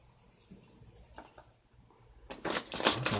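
A blending stump rubbing and scratching across paper during a pencil sketch, soft and close at first, then growing into louder, brisker strokes toward the end.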